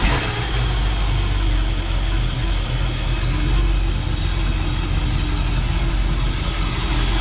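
A boat's inboard engine, one of two motors with raw-water cooling, runs steadily after being cranked up, a loud, even low rumble that holds without break.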